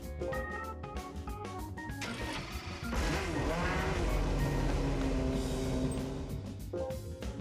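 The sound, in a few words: car engine in video game Gran Turismo 5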